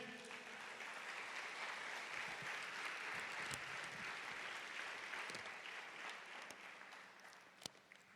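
Church congregation applauding during a sermon, a broad wash of clapping from many people that holds steady and then tapers, with a few sharper claps standing out near the end.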